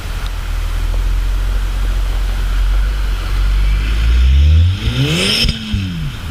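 Stock Volkswagen Golf R MK7 engine revving loudly up through a steady roar, then dropping sharply as the revs fall away, heard close with no talk.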